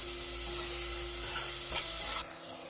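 Onions with turmeric sauté in a pan for urad dal, giving a constant close sizzle with soft stirring scrapes. The sound drops away abruptly near the end.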